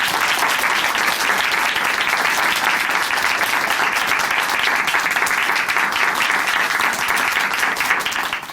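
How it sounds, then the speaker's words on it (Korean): Sustained, dense audience applause at a church program honors a guest, loud and even throughout before tapering at the very end. "다시 한번 귀한 사연 전해주신 이미라 자매님께 박수 부탁드릴게요"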